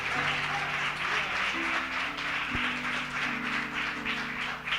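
A church congregation applauds during a sermon, a dense continuous clapping that holds steady throughout, with organ or keyboard chords sustained underneath.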